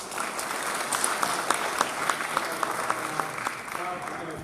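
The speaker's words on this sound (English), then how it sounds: "People, a big round of applause." A live audience gives a steady round of applause after a talk, dense clapping sustained at an even level throughout with a few sharper claps standing out.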